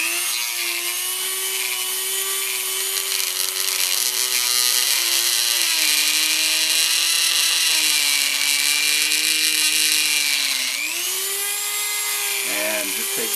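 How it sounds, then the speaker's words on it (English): Small Dremel rotary tool fitted with a grinder cutter attachment, working on a metal clamp on an Audi/VW TSI 2.0 dipstick tube, a steady high-pitched whine that dips and recovers under load and stops near the end. "I got a little Dremel. I don't have the right cutter, but we're going to try even this, which is a little bit of a grinder cutter"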